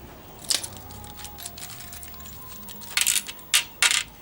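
Small metal screws clatter and rattle inside their plastic packaging with a few sharp, close bursts, the loudest near the end, over a quiet background.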